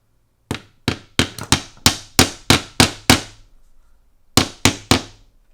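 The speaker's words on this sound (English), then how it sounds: "So I just use a soft-faced hammer to place these." A soft-faced hammer taps lung-model parts into place: a run of about nine sharp, evenly spaced knocks, a brief pause, then three more, all close and clear with no talking.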